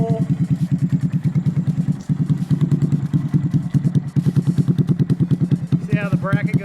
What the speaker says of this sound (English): I want to show you the new exhaust here by Zoom. Sounds fantastic.